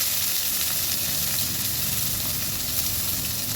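Small shallots frying in hot oil with spluttering mustard seeds give a dense, steady sizzling hiss, close and continuous for a few seconds with no voices.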